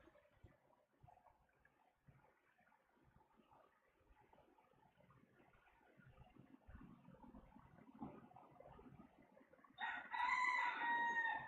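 Near the end a rooster crows once, loud and close, after a long stretch of faint outdoor rustling and low background noise.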